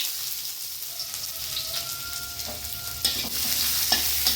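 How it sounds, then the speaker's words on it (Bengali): A little hot oil with cinnamon, chili, bay leaf and chopped onion sizzles steadily and close by, with a soft crackling hiss and no voices. "তার জন্য তেল গরম করে নিয়েছি, সামান্য তেল, দারুচিনি ফোড়ন দিচ্ছি, হ্যাঁ, লঙ্কা তেজপাতা দিয়ে দিলাম, সামান্য পেঁয়াজ কুচি দিলাম।"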